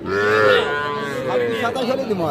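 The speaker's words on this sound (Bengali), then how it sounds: "এই পাশেও একটা সার বাছুর দেখতেছি আমরা" A crossbred bull calf at a village cattle market gives a loud, long, close moo that wavers and trails off, standing alone without talk.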